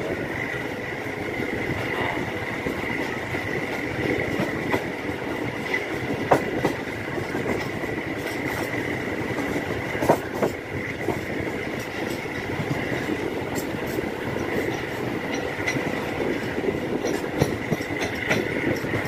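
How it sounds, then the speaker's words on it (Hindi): A train rolls slowly past near Choakariala railway station in Pakistan, where track work is under way, with a continuous rumble and irregular clickety-clack of wheels over rail joints, loud and close throughout. "ट्रेन जो है वो स्लो स्पीड में पास कराई गई है यहाँ से"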